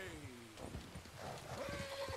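Horse hooves clip-clopping along with a drawn-out neigh in Red Dead Redemption 2, quiet and brief, while a person talks over the animal sounds.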